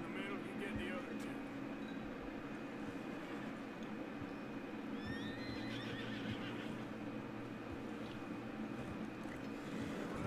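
Horses whinny repeatedly in a video game, with hoof clip-clops and a constant rumbling ambience underneath while players talk over the sound.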